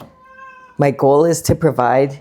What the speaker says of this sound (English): if you can hear that little cat in the background,